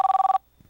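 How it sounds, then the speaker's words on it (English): A telephone rings with a fast warbling electronic trill, loud and close, lasting under half a second before stopping into near silence. "is that your phone ringing?"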